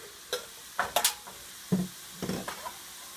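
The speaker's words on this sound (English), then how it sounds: "While our Hamburg is browning" Hamburger meat browns in a pan, giving a low background sizzle broken by several sharp scraping and stirring knocks, close and fairly quiet, with no voices.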